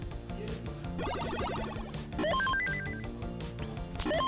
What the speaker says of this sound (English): that somebody's ringtone I just heard